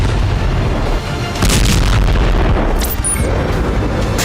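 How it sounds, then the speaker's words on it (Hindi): Heavy booming bomb blasts rumble one after another at Al-Shifa Hospital in Gaza, deep and loud, with crackling bursts overlapping in a continuous, chaotic barrage. "वीडियो में एक के बाद एक भीषण बम धमाके देखे जा सकते हैं"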